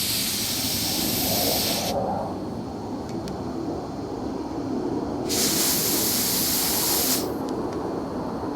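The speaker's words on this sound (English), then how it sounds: "we'll go ahead and crack these open a little bit and purge our lines" Bursts of refrigerant hissing from car A/C gauge lines being purged on a 1996 Buick Roadmaster, two loud sharp hisses separated by quieter background, close up with no speech.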